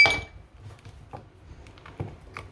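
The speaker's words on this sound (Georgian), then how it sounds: "ახლა კი ნახოთ ეს აქ ჩავყრი ამ ყინულებს." Ice cubes dropped one by one into a container in a home kitchen, giving a few light, sharp clinks spaced apart over a low steady background hum.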